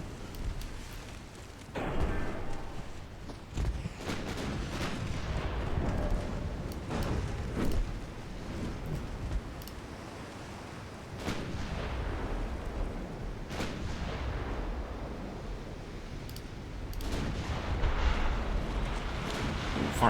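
Naval 4-inch guns fire at a destroyer in a World War II naval video game, with repeated deep booms and rumbling blasts spread irregularly over a constant background roar.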